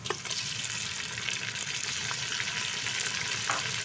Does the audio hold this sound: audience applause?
no